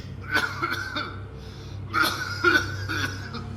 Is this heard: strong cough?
yes